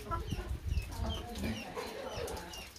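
Chickens cluck softly inside a dry coop at a rural home, scattered low calls close by with faint bird chatter, no speech.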